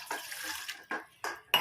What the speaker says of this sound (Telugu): వాటర్ పోస్తున్నాను